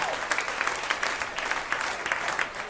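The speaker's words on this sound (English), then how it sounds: "Round of applause." An audience claps steadily throughout, a dense, continuous patter of many hands with no voices standing out.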